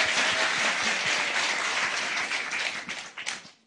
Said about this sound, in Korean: 한 번 더 박수를 드릴까요?